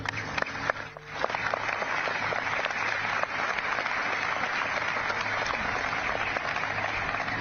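Veterans and a crowd at a D-Day ceremony in Normandy clap, giving a continuous, fairly loud wash of applause that holds steady to the end.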